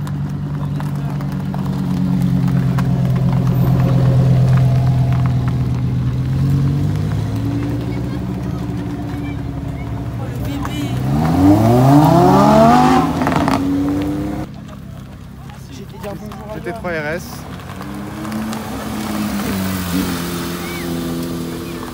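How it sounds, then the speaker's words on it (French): A Mitsubishi Lancer Evo rolls up to the start at a gentleman-driver car event. Its engine rumbles steadily, then revs up in a rising sweep and settles back, with people talking throughout. "Regardez, il y a une petite Evo qui va arriver."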